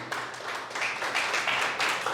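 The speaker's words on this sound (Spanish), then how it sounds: "Dale un aplauso a Dios por la iglesia." Church congregation applause, a steady wash of many hands clapping that swells slightly midway and holds at a moderate level.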